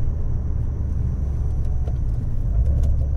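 A Dodge Challenger R/T fitted with a differential brace drives a lap, its engine a steady low rumble with road noise heard from inside the car, loud and unbroken.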